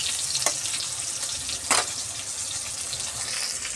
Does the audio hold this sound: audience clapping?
no